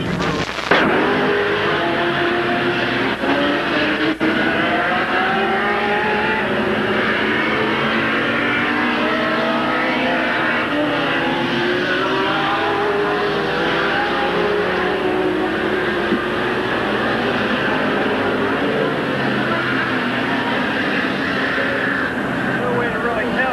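Stock cars racing at Midvale Speedway in 1986, a sustained loud roar of several engines rising and falling as they run close together around the track, with a voice talking over the noise throughout.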